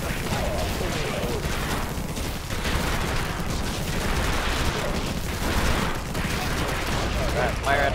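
Continuous dense gunfire and blasts from the video game Infested Planet form a loud, unbroken wall of shooting with a voice speaking over it.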